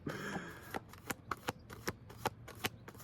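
A deck of Alchemy of Astrology cards is shuffled close up, starting with a riffle, then a series of crisp, evenly spaced slaps as cards are cut and tapped, about ten sharp snaps in quick succession.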